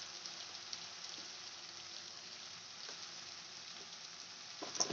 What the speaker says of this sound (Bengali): এবার ভালো করে কষাতে থাকবো